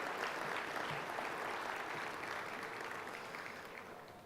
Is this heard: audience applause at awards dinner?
yes